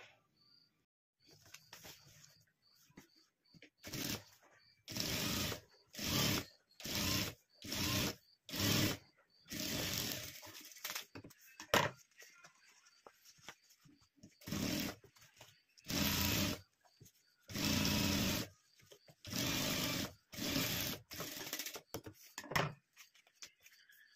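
A sewing machine stitches fabric for a handmade purse in a string of short, evenly spaced bursts, with quiet gaps between the runs.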